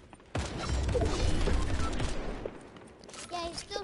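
Rapid bursts of Fortnite gunfire, a dense rattling volley that fades out, followed by fainter shots and game sounds, with players talking over it.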